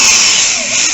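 A power drill whirs steadily, driving screws through a drywall patch into drywall clips, a loud close high-pitched motor drone in one short burst.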